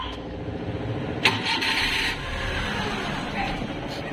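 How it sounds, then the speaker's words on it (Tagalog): The engine of a Suzuki Multicab with a carburetor problem is cranked over and catches briefly, then dies into a quiet idle-less lull. The sound is faint and muffled, with a short sharp click near the start. "Pag ini-start natin, paandar siya, tapos mamamatay na naman."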